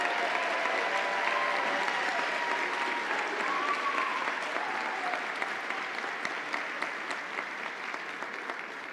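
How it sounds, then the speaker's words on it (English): Sustained audience applause for Master of Education graduates at a university College of Education convocation, a steady broad wash of many hands that holds for nine seconds and eases slightly toward the end. "Let's have a round of applause for all our Master of Education graduates."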